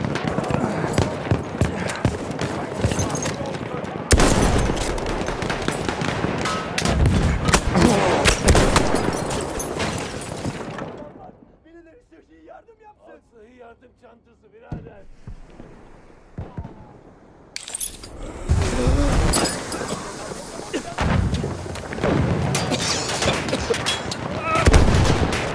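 Machine gun and other gunfire in Battlefield 1 battle, dense rapid bursts with booms filling the scene, dropping to a quieter lull midway before heavy firing resumes.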